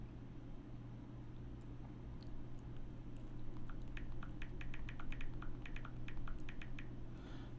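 Rapid clicking keystrokes on a computer keyboard patter in quick bursts over a constant low hum, fairly faint and close, with no voices.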